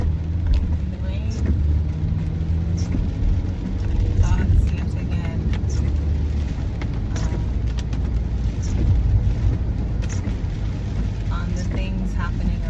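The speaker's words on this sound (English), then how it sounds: "As I am driving in my car" A car drives in the rain with a steady low road and engine rumble and a constant wash of noise, while someone talks over it.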